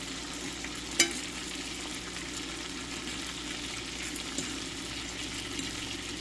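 Garlic butter shrimp fries in a pan with a steady, close hiss and sizzle, broken by a single sharp clink near the start and a few faint pops.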